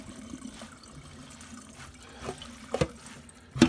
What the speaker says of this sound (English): We're going to shut the water off and just squeeze all the water out.